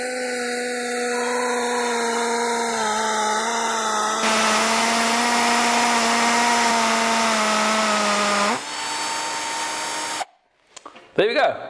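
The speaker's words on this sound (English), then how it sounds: "So let's start with the drilling." A power drill whines steadily while drilling holes for a bracket, shifting pitch as it bites in and slows, then stops, followed by brief clatter.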